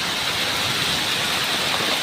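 Heavy rain driven by strong wind roars as a dense, constant wash of noise near and loud, unbroken and with no voices.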